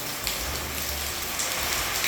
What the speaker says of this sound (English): when it's typhooning like this, it's really dark.